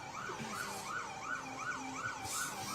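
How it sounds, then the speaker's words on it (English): Emergency vehicle sirens wail steadily at a parade in Medford, Oregon, a loud rising-and-falling tone cycling repeatedly and continuously over the street noise, with no talking. "All the flashing lights and sirens."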